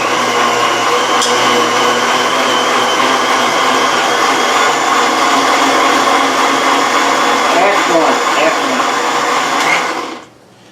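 Tomatoes chopped in a blender on its slowest chop setting for canning tomato juice, a loud steady motor whine held for about ten seconds before cutting off abruptly.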